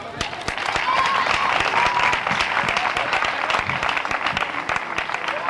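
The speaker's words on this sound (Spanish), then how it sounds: "un fort aplaudiment per ells" Dense, sustained audience applause at a neighbourhood festival in Es Coll d'en Rabassa, greeting two dance groups after their performance; a full, steady roar of many hands from start to finish, with faint voices mixed in.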